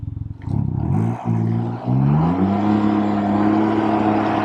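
A 2022 Can-Am Ryker Sport three-wheeler accelerates hard, its engine note climbing through rising revs with two brief dips at gear changes before settling into a loud, sustained high drone close by.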